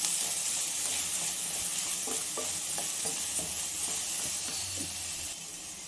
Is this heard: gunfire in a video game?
no